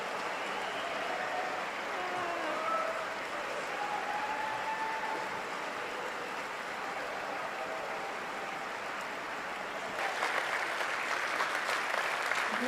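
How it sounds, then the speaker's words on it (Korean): Standing ovation from the audience at a Rotary International presidential theme address, steady soft applause sustained for over ten seconds and swelling slightly louder toward the end. "여러분 기립박수를 쳐주시면 제가 여러분의 감사를 직접 가서 전하겠습니다"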